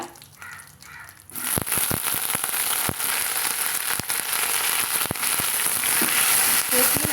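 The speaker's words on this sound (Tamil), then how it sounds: "நல்லா வதக்கி விட்டுக்கலாங்க" Drumstick flowers being sautéed in a pan for a lentil and garlic chutney, a loud steady sizzle starting after a quiet second, with sharp clicks of stirring scattered through.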